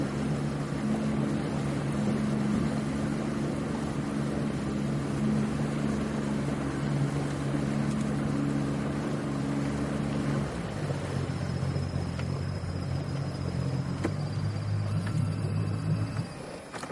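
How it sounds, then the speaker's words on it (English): A motorboat engine drones steadily and loudly throughout on Patoka Lake, its pitch dropping partway through as the throttle eases coming into a cove. "Driving the boat coming into Campground Cove."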